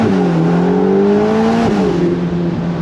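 A Ferrari Portofino M convertible with a 620-horsepower engine accelerates hard, its note rising steadily through the revs, dipping briefly at a shift, then climbing again, loud and close with no talk.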